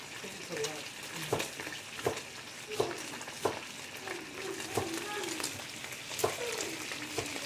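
Bacon frying in a hot pan for carnitas gives a continuous sizzle with regular clicks of stirring and scraping, while people talk quietly over it.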